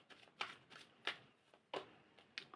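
Tarot cards being shuffled and drawn for a reading, a handful of quiet, crisp riffles and slaps in an irregular rhythm, close and faint with no talk.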